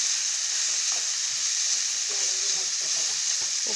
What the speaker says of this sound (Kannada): ಈಗ ಚೆಂದಾಗಿ ಎಣ್ಣೆ ಒಳಗೆ ಫ್ರೈ ಮಾಡೀನಿ ಉಳ್ಳಾಗಡ್ಡೆ ಎಲ್ಲ.